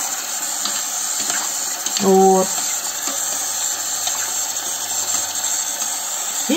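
Tap water running steadily into a sink while boiled pasta is drained and rinsed, with a brief clink partway through and someone talking over it.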